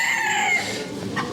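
Chabo bantam chickens crowing at an indoor poultry and rabbit exhibition in Râșnov, Romania, a steady mix of overlapping crows and hall noise with no talk.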